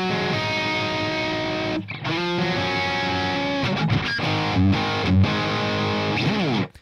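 A distorted electric guitar played through a basic Amplitube 5 amp tone rings out loud and alone in sustained chords, with a brief break near two seconds and a few choppy muted stabs before the final ringing chord.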